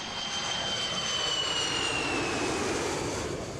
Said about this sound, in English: this British airliner with 115 passengers and some of Dr. Habash's armed men aboard appeared over Amman